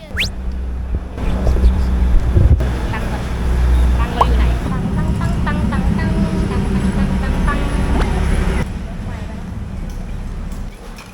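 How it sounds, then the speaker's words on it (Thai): A train rumbles and clatters steadily for several seconds, a broad low roar with faint higher squeals, while a voice talks over it, on the Wongwian Yai to Mahachai line in Thailand. "รถไฟที่เราเพิ่งมาตะกี้"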